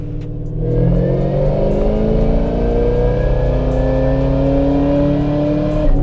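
A Kenne Bell supercharged 2010 Camaro SS running on ethanol revs hard through a dyno pull, its loud engine note climbing steadily in pitch for about six seconds with no talking.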